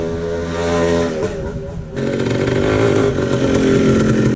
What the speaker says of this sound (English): if your bike is struggling to idle, you may need to turn your idle up a little bit